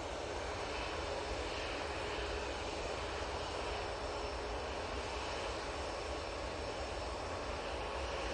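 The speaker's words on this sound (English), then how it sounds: "the Brussels A320 is coming out" Brussels Airlines Airbus A320 taxiing out at Manchester Airport, a steady broadband engine roar that holds at an even, fairly loud level throughout with no pauses.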